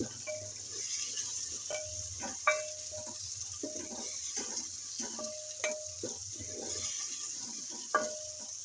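Chopped tomatoes and ginger sizzle in a pan as a base for fish curry, a quiet steady fry with intermittent scraping and clinking of a spoon against the pan, close up and without speech.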